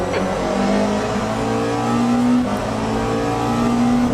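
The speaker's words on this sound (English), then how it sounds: "that's definitely a Porsche engine sound." A Porsche race car engine in the sim racing game Le Mans Ultimate holds a steady, loud drone with slight pitch swells as it accelerates, with no talk over it.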